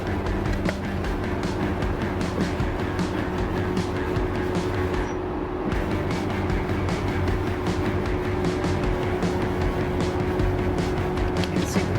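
A Ford Bronco Raptor with its sway bar disconnected climbs homemade flex ramps, its engine a steady low drone heard continuously at moderate distance for about twelve seconds, with no talk.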